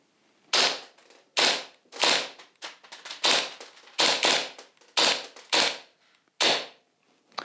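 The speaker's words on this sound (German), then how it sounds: "Ihr könnt richtig schöne, schnelle Schussfolgen mitmachen." An EMG Staccato airsoft pistol fires a rapid string of about ten sharp, snappy cracks in quick, slightly uneven succession, close and loud with no talking.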